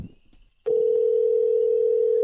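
A telephone dial tone sounds as a call is being placed. It begins abruptly after a short stretch of faint rustling, then holds as one steady, loud, unbroken tone to the end.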